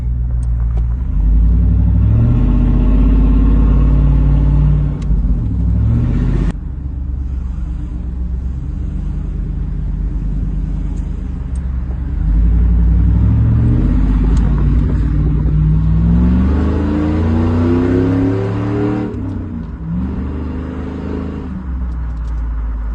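A vehicle with a 4L60E automatic transmission cruises in third gear at about 40 miles an hour, its engine a low, steady rumble that swells and eases with gentle throttle changes, with road noise underneath.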